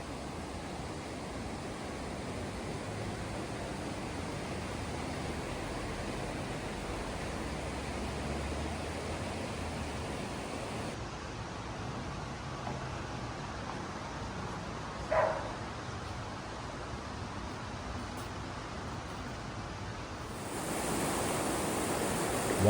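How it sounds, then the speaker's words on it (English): A mountain stream flows through a Swiss alpine village, heard as a constant, even rush of water that swells slightly louder at the end. "Water flows down through the village, past mountain streams tucked behind chalets, or trickles gently along the edges of forest paths."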